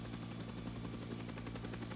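A helicopter flying in a video game gives a steady, droning rotor and engine hum with a faint rhythmic pulse, constant in level throughout and heard alone without talk.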